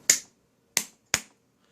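Three sharp, crisp hand claps or snaps triggering a soldered double clap switch circuit, close and isolated in a quiet room, the first alone and the last two closer together.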